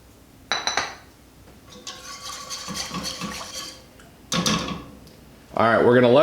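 Milk mixture being stirred in a pot for mac and cheese, with scraping utensil-on-metal clinks and clatter in bursts, near and moderately loud; a voice speaks at the end.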